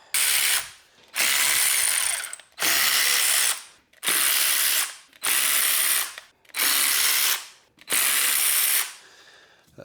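A ratchet clicks loudly and close by as it backs out the bolts on a differential cover of a rear axle under an S10 pickup, in seven separate bursts of rapid pawl ticking with short pauses between, no talking.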